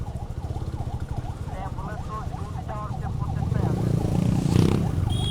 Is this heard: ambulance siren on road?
yes